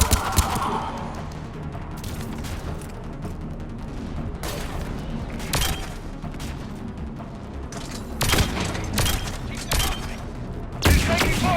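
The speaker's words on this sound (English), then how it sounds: "He's taking fire! Protect him!" Sustained gunfire in Mass Effect 3: dense, rapid bursts of shots and impacts crackle continuously across the whole stretch, with sharper loud reports punching through near the end.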